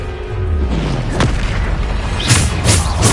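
A Bombarda spell explosion in the Hogwarts Legacy video game, a loud deep booming blast followed by several sharp bursts in quick succession, with a shouted spell incantation among the effects.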